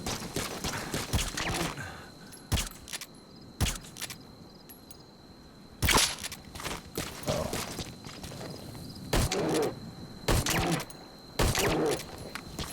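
Sharp, loud shots from a firearm in Metal Gear Solid V: The Phantom Pain, repeated at irregular intervals of about a second or two over a low game ambience, with a few closer, stronger bursts.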